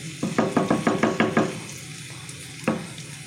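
Food frying in a pan is stirred in a run of about seven quick rhythmic scraping knocks, then a softer sizzle and one last clack, with no talking.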